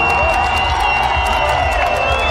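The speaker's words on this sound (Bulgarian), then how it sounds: "И ваше много бурни аплодисменти за страхотната заря" Audience applause and cheering from a crowd after a fireworks display at an outdoor concert, a dense continuous wash of clapping and whoops held steady and loud throughout.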